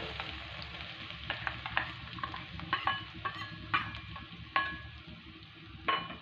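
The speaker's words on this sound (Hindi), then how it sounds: "पहले हम डालेंगे गाइस जीरा, जीरा हो जाने पे गाइस फिर हम डालेंगे प्याज।" Cumin and onion frying in a pan for bread rolls, a crackling sizzle broken by repeated clinks and scrapes of a spoon stirring against the pan, with no voices.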